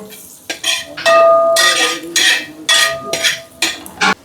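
Sliced onions being wilted for butter chicken are stirred in a metal pan, with loud bursts of clanking and scraping at irregular intervals and a faint sizzle between them.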